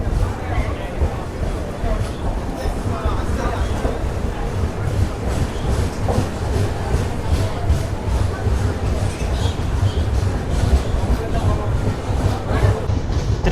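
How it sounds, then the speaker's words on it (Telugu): The Kerala SF Express, train 12625, pulls out of Tiruppur station with a continuous loud rumble and rhythmic clatter of wheels over rail joints, steady throughout, over a faint murmur of voices. "మన ట్రైన్ వచ్చేసి త్రిపూర్ నుంచి అయితే బయలుదేరిపోయింది"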